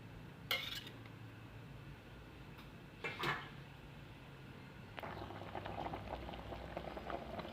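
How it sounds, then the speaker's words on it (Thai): Thai green chicken curry with eggplant bubbling in a pot, a faint continuous simmering hiss with a few clinks of utensils and pot lids, getting busier toward the end. "เดือดแล้วค่ะจะสุกแล้ว"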